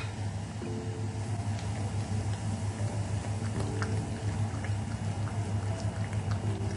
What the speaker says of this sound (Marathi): थोडंसं इनो ॲक्टिवेट व्हायला आपण थोडं पाणी घालतो